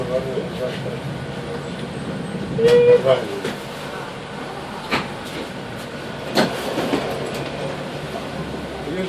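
A tram rumbles in with rail noise and a brief squeal at the opening of a new tram line to the PKP railway station in Bydgoszcz, Poland, while people chat nearby over the steady background.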